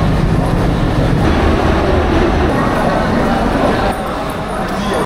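The Mumbai Mail train stands at a platform at Howrah station, giving a loud, continuous heavy rumble and hum close by that dips slightly near the end.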